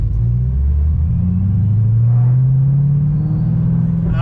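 A Ford GT500 engine rumbling low and steady from inside the car while driving, a deep drone that rises gradually in pitch as it accelerates, with no talking.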